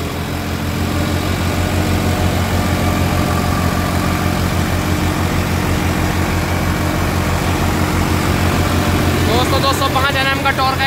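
A Sonalika RX 50 DI tractor engine drives a thresher with a loud, steady, close-up diesel drone and unbroken low harmonics throughout. A voice briefly joins near the end.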